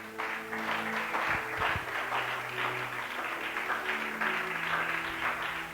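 A church congregation applauds together, steady clapping spread through the room at a moderate level, with faint tonal sounds and a few voices underneath.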